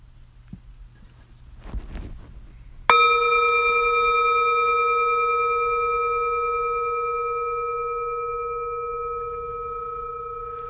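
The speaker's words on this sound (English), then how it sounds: "from the very first moment you hear the bell all the way to the end" After some faint shuffling, a meditation bell is struck once and rings out clearly, its pure tone slowly fading over several seconds.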